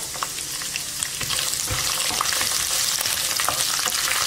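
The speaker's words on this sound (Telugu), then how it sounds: "ఇప్పుడు దీనిలో కట్ చేసి పెట్టుకున్న పచ్చిమిరపకాయలు వేసుకుందాం." Green chillies, with mustard seeds, go into hot oil for mango pulihora and fry with a loud, steady, close sizzle that lasts throughout, along with a few light stirring clinks.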